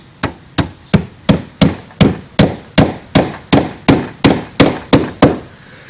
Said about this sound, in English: I'm going to continue nailing across